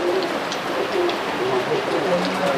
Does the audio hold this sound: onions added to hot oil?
no